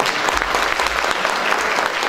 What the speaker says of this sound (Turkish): Bu kadar mı alkış?